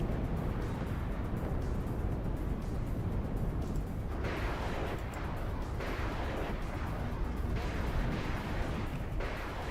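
Artillery fire from the WARNO strategy game rumbles as a dense, continuous low roar with heavy booms rolling throughout, steady and loud with no clear gaps between shots.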